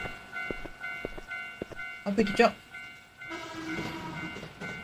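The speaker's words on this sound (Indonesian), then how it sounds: "Oh, itu kereta, guys." A train rumbles past near a station in the horror game Teke Teke: Moonlit Dread, with a loud clattering burst midway and a steady rolling hum, while a person speaks over it.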